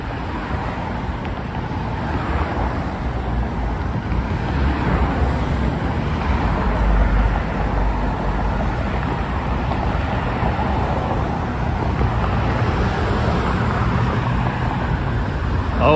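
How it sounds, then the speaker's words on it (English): Steady traffic rumbles across the Brooklyn Bridge in New York City, a constant broad wash of passing cars mixed with wind noise on the microphone, with no talk. "A decent amount of traffic coming on the bridge,"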